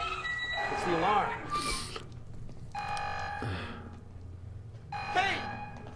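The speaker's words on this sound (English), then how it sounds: "It's the alarm." A buzzing alarm sounds in repeated bursts with short pauses between them, mixed with other noise and background sound. No one speaks over it.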